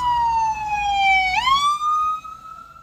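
An ambulance siren wails close by in the street, a single loud tone sliding down then sweeping back up, over low traffic rumble.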